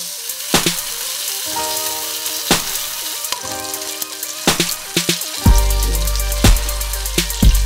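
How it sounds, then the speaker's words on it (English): Ghee and basting oil crackle loudly around a rainbow trout fillet in a hot pan, with repeated spoon clanks and sharp spattering bursts over a continuous close sizzle and no speech. "Use a tablespoon of organic ghee along with some basting oil and just baste the filet"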